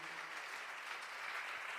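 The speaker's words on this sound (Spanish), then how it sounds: "Ese fuerte aplauso para Él" Applause from a church congregation, a steady dense wash of clapping that fills the whole short stretch at a moderate, even level with no talk over it.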